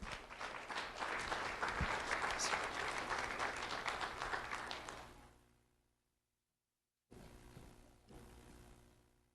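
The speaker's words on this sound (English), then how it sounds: "Let's have a round of applause for Jaslyn Hampton." Audience applause for Jaslyn Hampton at a sheriff's office youth recognition ceremony, a full room clapping steadily for about five seconds, fading to silence, then a shorter burst of quieter clapping returning.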